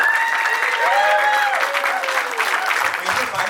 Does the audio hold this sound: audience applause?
yes